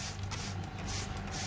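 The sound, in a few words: spray bottle misting water onto plants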